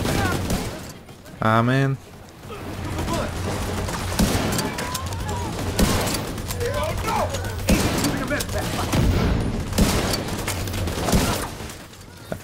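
Rapid bursts of gunfire and crackling shots in the video game The Division 2, loud and dense through most of the stretch with thuds, a short synthetic tone early on, and a voice talking over it.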